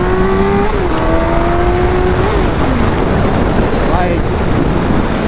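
A Suzuki GSX-R 1000 sportbike's engine drones steadily while riding, its pitch sliding up and down as the revs shift, beneath constant wind roar buffeting the microphone.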